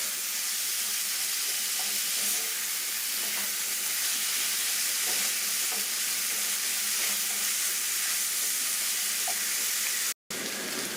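Ground beef and vegetables frying in a pan for shepherd's pie, a constant close sizzle and hiss with faint stirring clicks, briefly cut to silence near the end.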